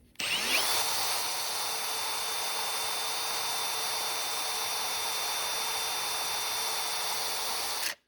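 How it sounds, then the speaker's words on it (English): A power buffer spins up and polishes a die carved from rock, a close, loud, steady high-pitched whir with a rushing grind that holds evenly for about seven seconds before cutting off abruptly. "I'm gonna hit that with the buffer one more time, see if it's just dull or if it's something else in the rock"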